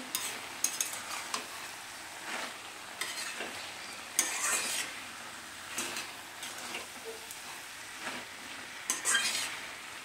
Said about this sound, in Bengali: মা দেখো আবার ঢাকনাটা খুলে একটু নেড়ে দিচ্ছে।